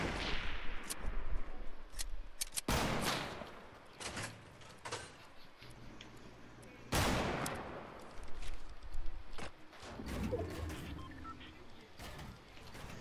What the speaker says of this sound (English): I'm just shooting at bushes.